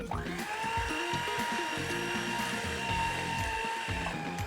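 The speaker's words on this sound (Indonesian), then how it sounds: "Lalu kita aduk perlahan dengan kecepatan rendah." An electric mixer whirs steadily at low speed through cookie dough, a constant close motor drone with uneven thumps and scraping from the bowl, no voices.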